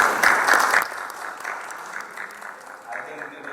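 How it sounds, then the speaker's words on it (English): An audience in a conference hall applauds, with a dense burst of clapping at the start that thins out into scattered, fading claps. "May I have a big round of applause for the gentleman of that?"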